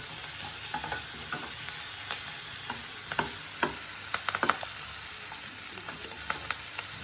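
Onions, green chilies and curry leaves sizzle steadily in a hot pan for an evening snack, a constant crackling fry punctuated by scattered clinks and scrapes of stirring.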